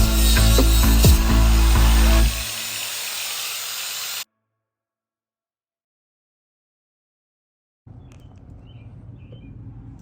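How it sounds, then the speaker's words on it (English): Angle grinder cutting off a rivet on a third-generation Toyota Tacoma during a lift install, a loud harsh grinding whine that drops in pitch and stops, then silence and faint rustling. "so we got that grinded off"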